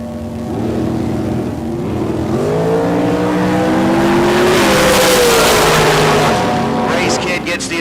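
Race cars launch side by side at a K&N Southwest Showdown bracket drag race, engines rising from a steady idle drone into a loud, climbing roar that swells and holds near the end, with an announcer talking over the noise.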